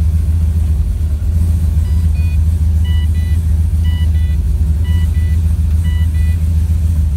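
A car engine holds steady with the transbrake engaged and a two-step limiter set, a constant loud low rumble with a faint rhythmic higher tone, and no voices.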